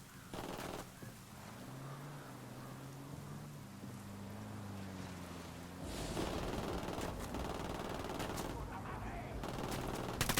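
Gunfire in the tactical shooter Ghost Recon Wildlands open beta: scattered shots and bursts over a steady engine-like drone, growing denser and louder in the second half.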